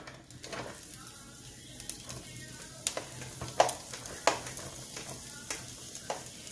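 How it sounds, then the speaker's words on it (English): Onion stir-frying in hot oil for an African meat pie filling: a steady close sizzle broken by sharp scrapes and clicks of stirring, with no talking. "We're going to stir fry the onion like for 3 minutes, 3 to 5 minutes"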